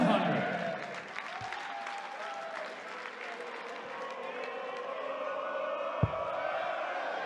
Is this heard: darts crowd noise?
yes